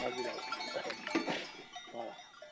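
Sardinian goats, a hardy mountain breed, bleating close by in a short, busy burst of overlapping calls and rustling, with a cowbell-like clink in the background.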